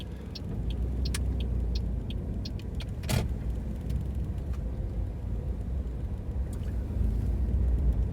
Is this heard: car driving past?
yes